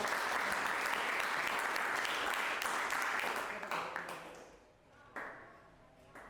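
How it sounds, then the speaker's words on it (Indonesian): Applause from a group fills the room, then thins out into a few scattered claps and taps as it dies away. "beri tepuk tangan"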